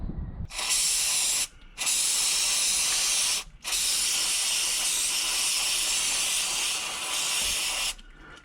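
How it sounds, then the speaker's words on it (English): Carb cleaner and WD-40 sprayed from aerosol cans onto Triumph TR7 brake parts, three loud, close hissing bursts separated by short pauses, the last one long and steady. "So I've just sprayed these now with carb cleaner and WD-40."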